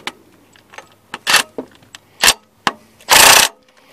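Wrench loosening a nut on a Honda Accord engine during timing belt work, with sharp metallic ratchet clicks and clanks in irregular bursts, ending in a longer grinding scrape.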